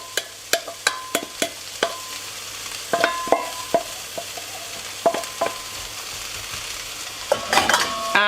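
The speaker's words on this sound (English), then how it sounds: "The pan is nice and hot, so let's add in our vegetables." Vegetables hit a hot oiled pan and sizzle steadily, with repeated sharp clinks and scrapes of a utensil stirring against the metal, close and loud throughout.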